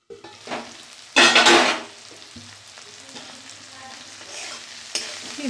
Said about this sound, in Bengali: শিমটা ভাজা ভাজা হয়ে গেছে